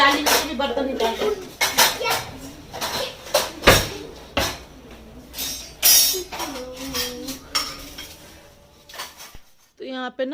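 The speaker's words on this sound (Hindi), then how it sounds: "डाली में बर्तन निकाल दो।" Metal dishes and pots being taken out of a basket in a home kitchen, with repeated clanking and clattering bursts under ongoing talk, including a voice.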